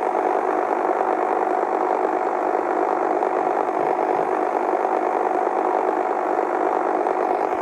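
A steady propeller airplane engine from a Russian war video game drones evenly and loudly throughout, with a constant mid-pitched hum and no talking.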